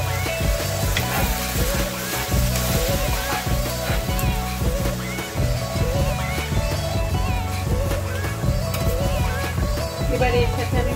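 Hot oil sizzles and bubbles steadily as a small splash of water goes into a fish curry, with stirring and sloshing throughout and a voice talking over the cooking.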